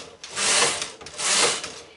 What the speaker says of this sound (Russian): Вяжем образец на вязальной машинке Silverit 840 на второй плотности